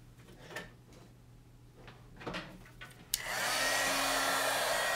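An embossing heat tool switches on and blows hot air with a steady, loud rushing whoosh that starts abruptly and holds, after a few quiet handling clicks and taps.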